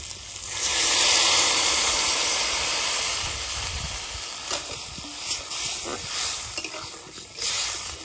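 Water poured onto potatoes frying with salt and turmeric, a loud rushing hiss and sizzle that swells then settles into steady bubbling with occasional stirring knocks.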